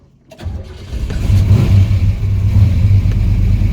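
A WB Holden with a 355 engine fires up and revs as the car pulls away, rising from near silence into a loud, rumbling, throbbing engine note that holds strong to the end.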